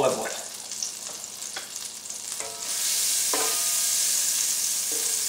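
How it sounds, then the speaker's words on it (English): Shrimp sautéing over medium heat in unsalted butter mixed with olive oil, a hissing sizzle that swells louder partway through, broken by several sharp utensil clacks and stirring scrapes. "we're going to have the fire at medium to saute the shrimp"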